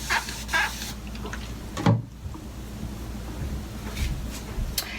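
A handheld spray bottle mists water onto hair in several short, hissing bursts, close to the microphone, with brief pauses and quiet handling noises between sprays.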